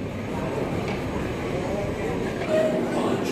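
A passenger train rolling slowly at a station on a Raipur to Ahmedabad route, a continuous low rumble and rail noise with a slight swell near the end, under talk and platform bustle.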